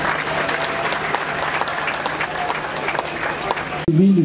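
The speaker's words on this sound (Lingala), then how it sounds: "Acclamez s'il vous plaît." Sustained audience applause at a political rally, loud and dense for about four seconds, ending abruptly as an amplified voice begins to speak.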